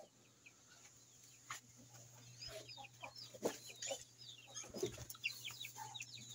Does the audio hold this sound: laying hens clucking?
yes